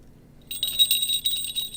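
Bright, high jingling comes from a small falconry tail bell shaken by hand after a brief silence, close and steady for about a second with no talk.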